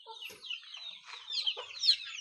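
Chickens and many chicks cluck and peep nearby in a busy, overlapping chorus of high chirps and short clucks.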